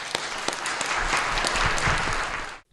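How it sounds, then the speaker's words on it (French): An audience at a communications and society gathering claps, a dense burst of applause that holds steady for a couple of seconds and then quickly dies away. "Je pense qu'ils méritent une bonne main d'applaudissements."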